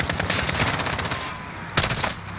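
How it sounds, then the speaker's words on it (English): Continuous automatic gunfire from a Call of Duty: Modern Warfare campaign battle, dense rapid bursts layered over one another for the whole stretch, loud and close, with a sharp louder shot near the end. "who the fuck is shooting still?"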